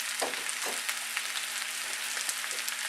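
Wild mushrooms stir frying in a large skillet, a steady close crackling sizzle with soft scraping stirs, fairly quiet and with no voices.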